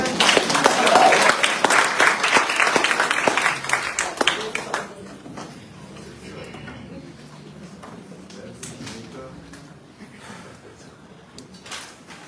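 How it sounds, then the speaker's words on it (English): At a memorial lecture in Dominica, audience applause rings out with clear claps for about five seconds, then dies away into room noise with scattered faint clicks and shuffling. "Clap for her."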